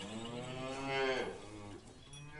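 A buffalo moos loudly and close by with a long, drawn-out low bellow that swells in the middle and then fades, with no other sound around it.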